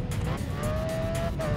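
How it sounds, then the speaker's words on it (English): Race cars in the racing video game GRID Autosport drone past with a steady engine roar and a rising whine, loud and continuous through the brief moment. "I can hear the other cars."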